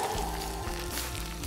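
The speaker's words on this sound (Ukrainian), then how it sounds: "гриби відправляються на сковорідку" Mushrooms frying in a pan outdoors, a steady close sizzle with a low hum underneath, constant and moderately quiet with no talking.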